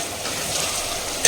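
Shallots and garlic roasting in a clay pot over a village-style fire, a steady close sizzle that ends with a brief sharp burst of crackling.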